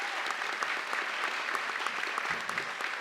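An audience at a youth career program graduation claps warmly and continuously, a dense wash of applause filling the room from start to finish.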